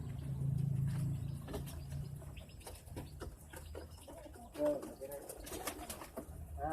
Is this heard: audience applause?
no